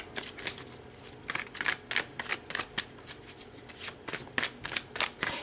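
Tarot cards being shuffled by hand, a quick run of crisp riffling flutters and soft slaps in uneven bursts, close and fairly quiet with no talking.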